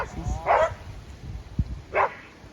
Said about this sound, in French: Et là, le chien fait son exercice.